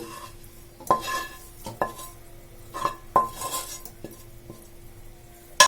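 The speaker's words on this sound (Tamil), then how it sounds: "இப்போ நம்ம வந்து ஆற வச்சிருந்த இந்த மசாலா வந்து இதில் போட்டுக்கலாம்" Cooled masala is spooned into a bowl of crumbled leftover idli, with sharp metal-on-steel clinks and taps from a spoon striking the vessel at irregular intervals over a quiet background.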